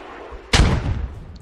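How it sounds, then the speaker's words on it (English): A single heavy tank shell blast strikes a fortification in the military shooter Squad: a sudden loud boom followed by a rumbling, decaying tail over about a second. "Oh, and the tanks are now shelling the fortification."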